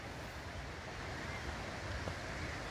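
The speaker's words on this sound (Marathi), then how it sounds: "पूर्ण वरून एकदम पाणी येते आणि एक नाही खूप आहे तिथे" Monsoon waterfalls at Malang Gad pour down from high above, a steady, distant broadband rush of falling water with faint wind, no voices.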